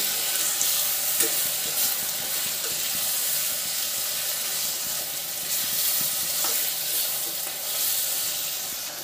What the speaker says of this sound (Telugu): మటన్ వేసుకుని దీన్ని బాగా ఆయిల్లో ఫ్రై చేద్దామండి